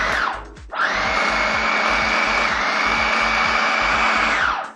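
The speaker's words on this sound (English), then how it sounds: "We're gonna put the cover on our food processor. Okay, we're gonna pulse this." Food processor pulsing carrots and fresh thyme for conch fritters, a loud close motor whine starting after a short burst, running steadily for several seconds with rhythmic chopping thumps underneath, then cutting off.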